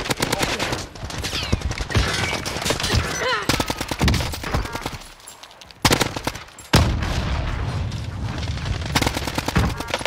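Heavy, sustained automatic gunfire from several weapons in Call of Duty Warzone, Modern Warfare, crackles loudly and nearly without pause, with brief lulls and renewed bursts.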